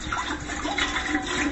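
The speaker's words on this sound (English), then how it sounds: "now it's time to add the water and get this to a rolling boil" Water pours into a pot of chopped broccoli florets, a short, steady splashing rush at moderate volume with no talking.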